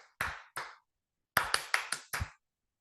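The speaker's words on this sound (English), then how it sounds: "Clap different patterns." Hands clap in shifting patterns: two single claps, a pause, then a quick run of five sharp claps, close and dry with nothing else sounding.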